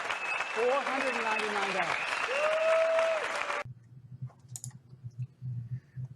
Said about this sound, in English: All these people in the audience hooped and hollered and cheered